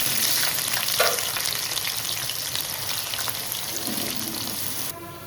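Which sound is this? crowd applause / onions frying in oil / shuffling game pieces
onions frying in oil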